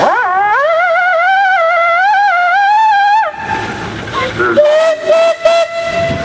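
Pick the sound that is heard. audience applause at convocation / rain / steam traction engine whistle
steam traction engine whistle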